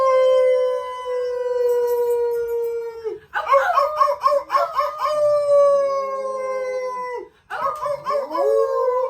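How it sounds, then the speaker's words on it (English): A dog named Charlie howls in long, loud, close wavering tones, breaking twice into shorter yips and whimpers before resuming the drawn-out howl. "Should we take a moment to do a howl sesh?"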